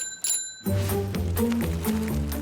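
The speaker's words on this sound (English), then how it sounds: "When we ring a ring bell, we push the lever, which is attached to a spring." A bicycle bell is rung at close range: two quick bright dings, then a livelier run of clanging, ringing strikes that carry on to the end, with no voices.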